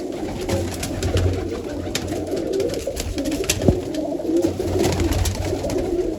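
A loft of about 48 pigeons keeps up a continuous low cooing and rumbling, close and steady throughout, with scattered small knocks and rustles mixed in and no one speaking.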